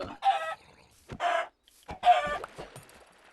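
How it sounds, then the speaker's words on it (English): A Minecraft chicken clucks in three short, clear bursts separated by brief pauses, standing alone with no talk over it. "lovely chicken."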